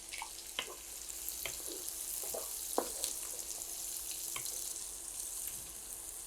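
Steady sizzle of a cup of onions frying in a pan for chicken curry, a continuous hiss with occasional clinks of a spatula against the pan, no talking.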